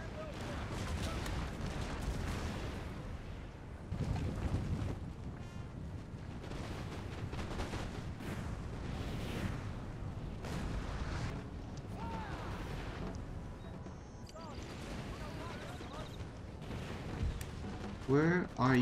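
Cannon artillery and musket gunfire rumble through a Napoleon: Total War battle in the Ireland campaign, repeated booms and crackling volleys under steady talk from a player throughout.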